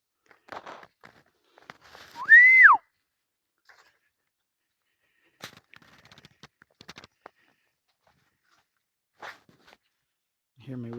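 A person whistles once at an animal on a roadside, a single rising-and-falling whistle, followed by scattered faint clicks and scuffs in quiet surroundings.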